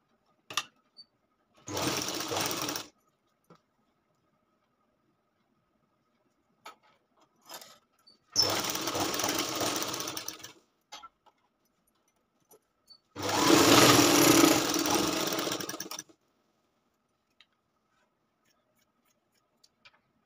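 A sewing machine stitches a lined katori blouse in three separate runs of steady mechanical whirring, a short burst, then longer ones, with near silence and small handling clicks between runs and no speech.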